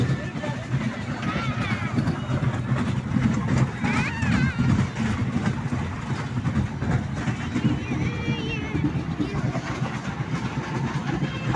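A small toy train rumbles steadily along with a continuous mechanical clatter at an amusement park in Chandannagar, while people talk excitedly over it throughout.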